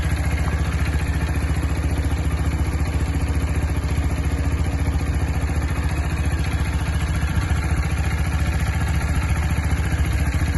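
A Sinnis Terrain 125cc motorcycle runs at a steady idle after an oil change, a constant close mechanical chatter and whir with no change in pace and no voices.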